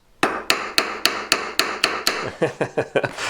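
Steady metallic hammer taps on jewellery held on a stick, about a dozen evenly spaced sharp strikes, close and clear, with no talking.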